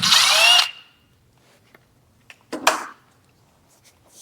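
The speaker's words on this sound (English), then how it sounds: "I'm gonna go ahead and remove my final bolt here." A power tool, likely a drill or impact driver, whirs loudly for about half a second while removing the final bolt from a Ford F-150 rear axle cover, then faint clinks and rattles follow nearby.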